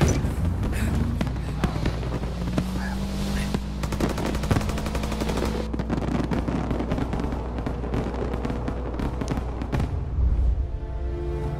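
Candles bursting as fireworks in the video game Mafia: Definitive Edition: a dense, continuous run of loud crackling pops and bangs, with a low droning tone underneath throughout.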